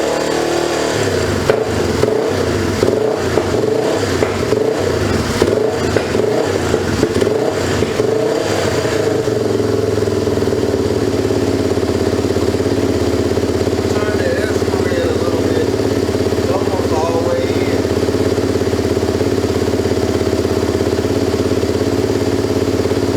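A 2004 Yamaha TTR 250 dirt bike engine runs on choke with a faulty carburetor, blipping and revving unevenly at first, then settling into a loud, steady, rough idle close by.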